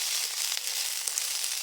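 Thinly sliced onion fries in oil in a pan with a soft, even hiss of sizzling, fairly faint and unbroken, with tiny pops and no voices.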